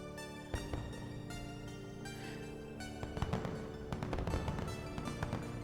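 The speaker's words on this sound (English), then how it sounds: "I planted a firework." Firework in a video game bursting repeatedly, with a sharp pop near the start and a flurry of crackling bangs in the second half over continuous game music.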